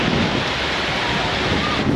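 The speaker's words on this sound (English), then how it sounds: "it is way windier than earlier" Strong wind and breaking waves along the seafront on the French Riviera, a dense continuous roar of surf and gusts buffeting the microphone, loud and close.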